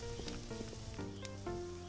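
Potatoes fry in a restaurant simulator video game, a constant sizzle heard beneath a soft background of game tones, steady and fairly quiet throughout with no talking.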